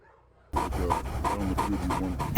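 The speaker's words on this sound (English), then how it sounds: "As for Ivan, stop or release my dog" A dog pants rapidly and steadily at close range, rhythmic breathy puffs starting abruptly after a quiet moment, with no clear barks.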